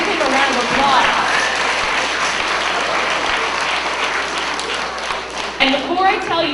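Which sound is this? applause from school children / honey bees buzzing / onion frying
applause from school children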